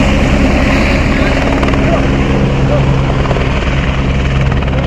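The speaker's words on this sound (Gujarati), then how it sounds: "કારણ કે એક બીજું ઉપડે ને ત્યાં બીજું આવી ગયું હોય હેલિકોપ્ટર" A helicopter at a pilgrimage helipad on a Char Dham yatra roars loudly and steadily throughout with a constant rotor and engine drone, and people's voices are faintly mixed in underneath.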